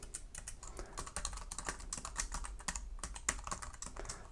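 Rapid, uneven keystrokes clatter on a computer keyboard as code is typed, a close, quiet run of crisp clicks lasting the whole stretch with no talking.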